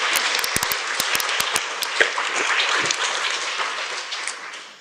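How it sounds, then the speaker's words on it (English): An audience at a healthcare programme evaluation event gives a quick round of applause for the first speaker, brisk clapping with a few sharp individual claps standing out at the start, steady for several seconds before fading. "Should we just give them a quick round of applause before we move on?"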